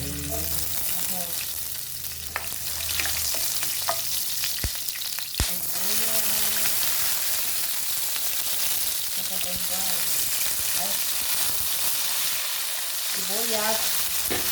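Onion and tomato sauté in hot oil for chicken adobo, giving a loud, dense, continuous sizzle with spatula scrapes and a couple of sharp knocks; a voice can be heard faintly in the background.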